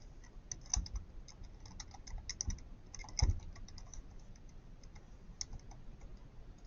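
Fingers type an email address on a computer keyboard, giving quiet, irregular clicks and clacks in short runs with small pauses, alone with no voices.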